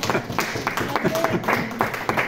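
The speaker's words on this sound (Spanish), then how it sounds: "Da un aplauso al Señor." A church congregation claps in a rhythmic, fairly close pattern of separate beats, with voices mixed in among the claps.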